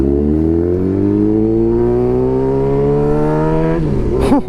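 A Suzuki GSX-R 600 motorcycle with its exhaust valve removed revs hard up through its range, loud and near, with a rising engine pitch that drops as the throttle is released.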